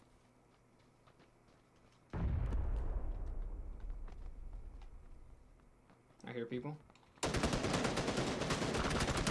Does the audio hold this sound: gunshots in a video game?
yes